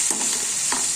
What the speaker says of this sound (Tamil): கிண்டி வச்சுட்டு மூடிடணும்.